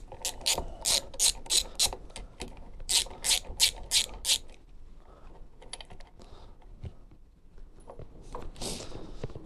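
A hand ratchet clicks rapidly in several quick bursts while loosening the brake levers on a Royal Alloy GP300 scooter, then slower scattered clicks and handling noises follow, close up and without talk.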